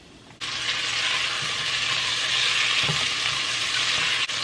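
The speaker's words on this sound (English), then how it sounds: "going to saute the peppers and the mangoes" Peppers and mangoes for a Caribbean sauce hit a hot pan and break into a loud, steady sizzle that holds evenly, with a faint stirring knock partway through and no voices.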